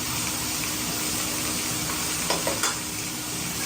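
Tomatoes with salt and chilli frying in a pan as a tadka base, a loud close hiss of sizzling throughout, with a couple of quick stirring scrapes near the end and no talking.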